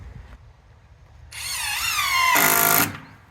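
Power drill driving screws into wood for a kayak rack, a whining motor that rises in pitch and revs louder near the end before cutting off, close and prominent.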